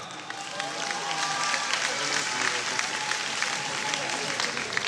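An audience at a French costume contest applauds a solo contestant dressed as Carmilla from Vampire Hunter D, with clapping that swells and holds steady under crowd voices and scattered whoops.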